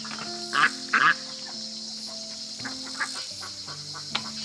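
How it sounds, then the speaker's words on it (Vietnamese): Wild ducks quack in short bursts, two louder calls early on and softer, scattered calls afterward, over a steady background hum. "có mấy con vịt trời này nó chưa thích nghi được ở đây"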